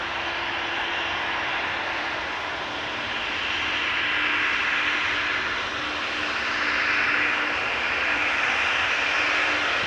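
Airbus A321neo jet arriving at Amsterdam Schiphol from Montreal, a steady broadband engine roar that swells and fades gently over ten seconds, moderately distant, with a faint tonal whine running underneath and no talk.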